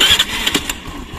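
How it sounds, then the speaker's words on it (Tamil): A three-year-old carbureted Honda Activa 125 scooter engine starts and settles into a steady low idle, close by and moderately loud, with a few brief louder bursts early on. "இப்போ இந்த வண்டியோட இன்ஜின் நாய்ஸ் பார்ப்போம்"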